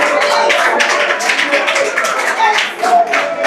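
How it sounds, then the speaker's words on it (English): An audience at a graduation ceremony for a training cohort claps for a group placed fifth, a dense, steady patter of many hands filling the space, with some voices mixed in underneath. "Let's clap for them, let's clap for them, let's clap for them"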